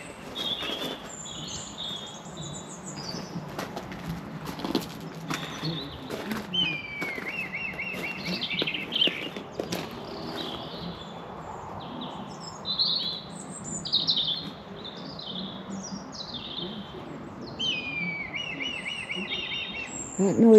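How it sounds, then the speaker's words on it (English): A kite perched in a tree gives repeated high, thin whistling calls at moderate distance, mixed with scattered chirps from other birds over a soft outdoor background, with no one speaking. "That noise is a kite calling."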